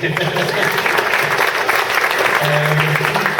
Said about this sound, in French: On te applaudit